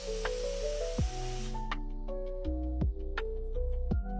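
A shotgun-style air gun blasts compressed air from an air compressor in a garage, a loud steady hiss that cuts off after about a second and a half, followed by scattered clicks and knocks over a low hum.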